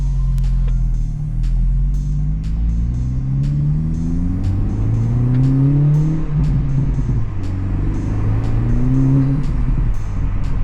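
A Honda Civic Type R FL5 with resonator delete pulls hard from inside the cabin, deep engine drone rising and falling through gears with sharp turbo flutter and clicks over the rumble, loud and continuous.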